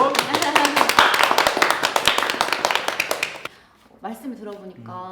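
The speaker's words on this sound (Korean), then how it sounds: "박수." An audience at a Korean studio talk show about smart cities in Daegu claps in quick, steady rhythm for several seconds; once the clapping fades, a person begins speaking.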